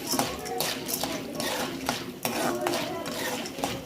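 A utensil stirs popcorn slowly in oil in a pan over a low gas flame, giving close, repeated scraping and clinking strokes at an uneven pace, with no talk.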